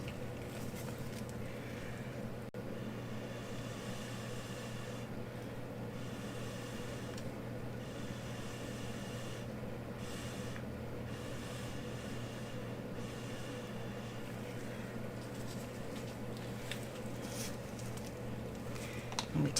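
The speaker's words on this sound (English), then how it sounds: "I think this is where I'll use Brian's little blower" A small air blower pushing acrylic pour paint across a canvas: a steady, even whirring rush that runs unbroken at moderate level over a low hum, with no clear speech.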